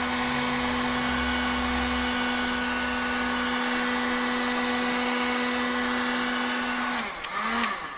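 Heat gun blowing steadily on butyl tape around a Fiesta ST Mk6 headlight, a constant loud whirring hum with a fixed tone that cuts off abruptly near the end, leaving a brief clatter.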